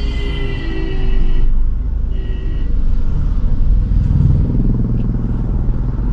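A car creeps in first gear with no accelerator pressed, barely above 5 km/h, its engine idling as a steady low rumble with faint clattering and a mild swell partway through, close and continuous with no talking.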